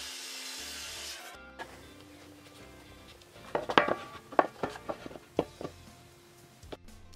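Angled cuts being sawn into plywood pieces for an epoxy desk's keyboard tray, heard as a quick series of sharp, close rasping strokes that rise to uneven bursts after a quieter start.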